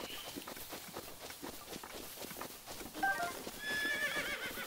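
In Zelda: Breath of the Wild, a called horse whinnies among clip-clopping hoofbeats on the ground, moderately loud, with a brief high neigh near the end and no voices.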